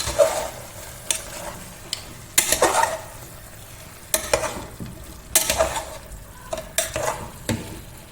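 Fennel seeds and garam masala sauté in a pan for mutton curry, with steady sizzling broken by repeated stirring scrapes and spoon knocks, close and fairly loud.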